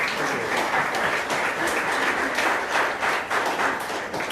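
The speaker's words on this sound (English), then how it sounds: "Give them a round of applause." An audience at the dedication of a sacred space gives a round of applause, a sustained wash of many hands clapping at a steady, fairly loud level with faint individual claps standing out.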